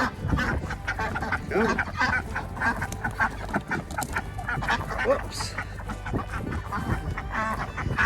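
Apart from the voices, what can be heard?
ducks quacking while being herded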